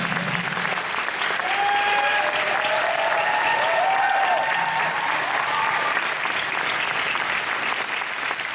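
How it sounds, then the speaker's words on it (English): Sustained applause from a film world premiere Q&A audience, steady and loud throughout, with faint tonal sounds drifting over the clapping. "Let's give him a round of applause."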